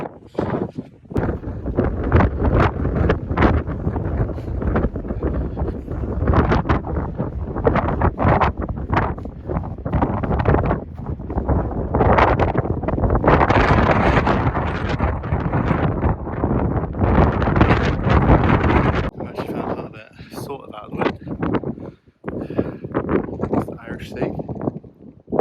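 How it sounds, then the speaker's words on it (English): Strong wind on the Welsh coast near a big hill buffets the microphone in a loud, steady roar, mixed with close heavy breathing and occasional speech throughout. "It is windy, but it's not wet."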